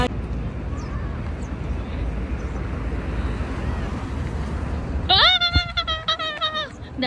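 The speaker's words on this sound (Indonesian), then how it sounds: "kucing." Cat meowing outdoors near the Kuching waterfront: a single drawn-out meow of a couple of seconds rises clearly over a steady murmur of background noise and crowd.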